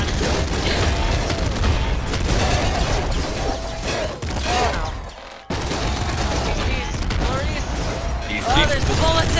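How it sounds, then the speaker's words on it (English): Dense video-game gunfire with bullets flying everywhere, continuous bursts and booms packed closely together, loud and up close, with people talking over it. "There's bullets everywhere!"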